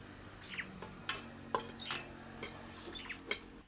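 Whole dry spices, including dried red chillies with stems removed, are stirred in a pan for an instant amla and green chilli pickle, giving several separate clinks and scrapes of a spoon against the metal pan. Nobody speaks.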